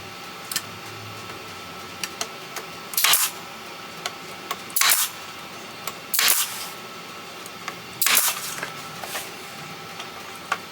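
A brad nailer driving 1.25 inch brads into roughly one-inch-thick scrap wood gives four sharp, short bursts spaced a second or two apart, fairly near, with quiet room noise in between.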